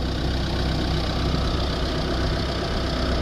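Air compressor running beneath a Vauxhall Vivaro during a DPF clean, a loud, continuous, dense mechanical rumble and hum that holds steady without pause for the whole stretch.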